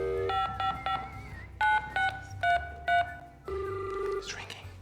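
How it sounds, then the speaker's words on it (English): Telephone keypad dialing tones ring out in short beeping bursts, several rapid presses followed by longer evenly spaced tones, with people talking in the background throughout. "So I'm just gonna just call Carlos."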